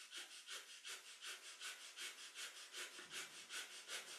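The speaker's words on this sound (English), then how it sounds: "So this is our panting breath through the nose." Breath of fire in kundalini yoga: rapid, rhythmic panting breaths drawn in and pushed out through the nose. The airy puffs repeat evenly at roughly three per second, are close and soft, and no voice is heard.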